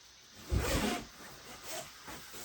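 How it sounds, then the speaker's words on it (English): A fabric duvet cover's zipper being pulled closed in two short rasping strokes, the first louder and longer, the second softer, with quiet room noise between. "And I just zip each side up to about the middle."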